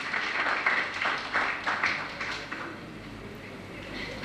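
An audience at a seminar held in memory of Ghulam Haider Wyne applauds with a burst of dense hand clapping that gradually thins and fades toward a quiet, murmuring room tone.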